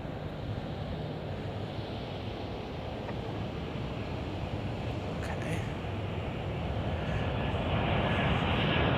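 A jet airliner on approach to land at Chicago O'Hare, a broad steady roar from a distance that grows slightly louder toward the end, with no voices over it.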